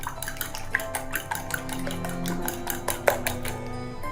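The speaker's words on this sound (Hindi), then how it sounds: "अंडा हमारा अच्छे से फेंटा गया" Egg being whisked in a bowl with chilli, salt and coriander leaves for a shami burger, with a rapid, steady clinking of utensil against the bowl that carries on throughout at close range.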